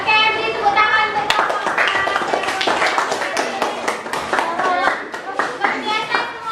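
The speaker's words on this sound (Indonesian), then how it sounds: "beri tepuk tangan" Classroom of children clapping hands together during an Islamic religious studies lesson, a dense run of sharp claps lasting several seconds, close and fairly loud, with children's voices mixed in.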